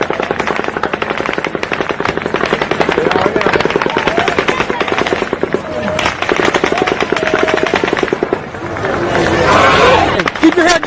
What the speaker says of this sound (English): the 9th volley of automatic gunfire begins